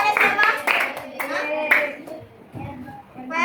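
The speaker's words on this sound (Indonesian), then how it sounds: "Tepuk tangannya siapa?" A sixth-grade class claps hands in a few rhythmic bursts during a coding lesson, the sharp close claps mixed with children's voices and a speaking teacher, fading to scattered talk.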